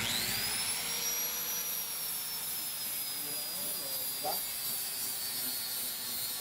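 An angle grinder works on stainless steel with a loud, steady high-pitched whine that holds throughout, and a brief voice is faintly audible under it.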